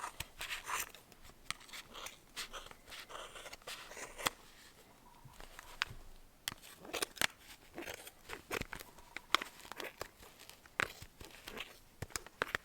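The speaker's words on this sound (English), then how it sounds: "you start taking your scissors in the center of this and cutting all the" Scissors snipping through super bulky yarn for a knitted hat, a quiet, close run of irregular crisp cuts and rustling fibres with brief pauses between strokes.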